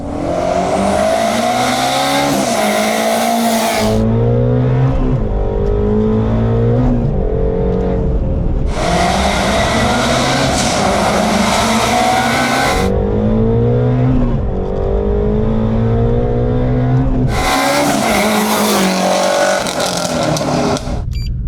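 An 800 hp twin-turbo Shelby GT350 running Hellion turbos on 93 octane makes three loud flybys, each pass a roaring sweep that rises and fades with rumbling gaps between.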